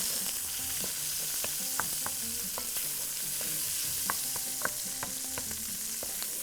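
Onions frying in a pan, a soft continuous sizzle broken by repeated scrapes and taps of a utensil as they are stirred, fairly quiet with no talking.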